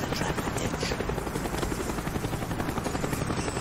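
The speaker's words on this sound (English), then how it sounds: "Avoid the helicopter." A helicopter flies in the video game Call of Duty Black Ops, its steady rotor chop filling the scene at moderate level without pause.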